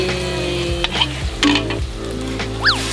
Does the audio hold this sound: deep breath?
no